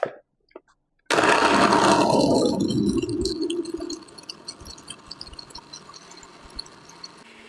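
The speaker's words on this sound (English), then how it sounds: "this is the blender that I'm going to use to blend the coconut" Blender whirring loudly as it blends coconut with water for coconut milk, starting abruptly after a moment of quiet, then settling into a steady, rattling grind that softens over time.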